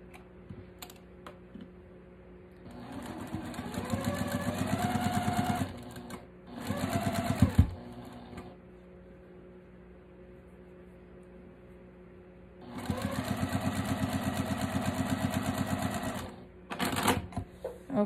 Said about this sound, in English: Take that over to the sewing machine